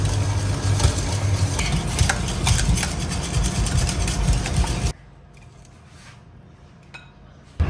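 Eggs beaten into cake batter, a busy whisking rattle of utensil against bowl for several seconds that stops abruptly, leaving near quiet before a brief restart.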